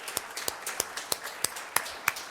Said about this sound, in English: join me in just a round of applause here in this formal meeting for Mr. Michael Kashuba